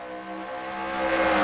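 Racing trucks at Phoenix in an SCRL Rainbow Dash Truck Series event pass by with a rising engine whine that grows louder and nearer over about a second and a half, steady and without talk.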